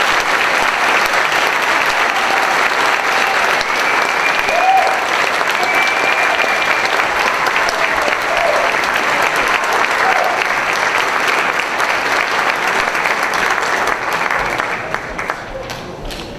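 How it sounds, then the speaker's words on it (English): Sustained audience applause fills a 2015 Golden Spartan Awards ceremony hall after a group of women nominees is announced, steady loud clapping throughout that tapers slightly at the end. "Let's give a big round of applause for these ladies."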